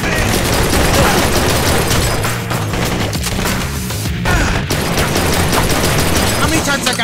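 Gunfire in the Blue Estate video game rattles almost nonstop, with dense bursts of loud shots, crashes and impacts filling the whole stretch and barely pausing.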